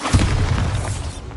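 A Bombarda explosion spell goes off in a Harry Potter video game as one short, heavy boom with a crackling, shattering tail, loud and close.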